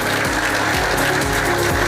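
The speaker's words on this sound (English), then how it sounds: "A round of applause for His Excellency, the Governor of Mombasa" An audience at an ocean conference in Shanzu, Mombasa applauds the county governor. The steady, dense clapping blends with loud, sustained music throughout.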